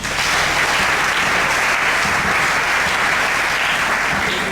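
A church congregation breaks into sustained, dense applause acclaiming the Lord, loud and steady throughout with no pauses.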